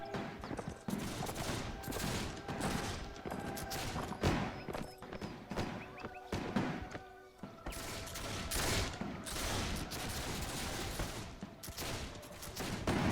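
Battle gunfire in the video game Between Empires, playing France: repeated musket volleys and scattered shots crackle in irregular bursts across the battlefield, fairly distant and layered over a low din.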